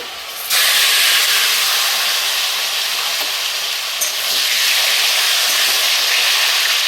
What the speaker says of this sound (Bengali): আর এই তেলেই এখন কেটে রাখা আলুগুলো ভেজে নেব